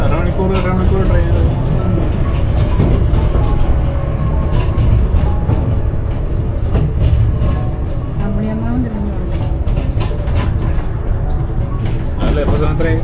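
Steady rumble and rattle of a moving passenger train in the UK, heard from inside a carriage, loud and continuous, with people talking over the noise.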